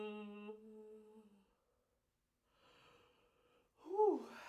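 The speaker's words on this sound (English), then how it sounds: "And then take a couple of yawns." A drawn-out voiced yawn fading away, a pause of silence, then a second breathy yawn rising and falling, close and soft.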